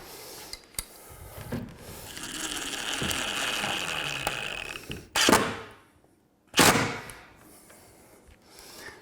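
Screws are driven into wood while a walk-in pantry is built, with a drawn-out grinding whir from a driver followed by two sharp, loud bursts near the end. No one speaks.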